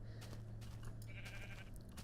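Sheep bleating in a video game, a pink sheep, heard in a short steady call over a continuous low game hum, close and fairly loud with no talking.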